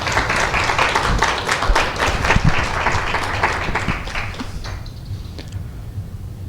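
Audience applause welcoming a doctor invited to speak at a law association workshop, a dense steady wash of many clapping hands that thins and fades toward the end.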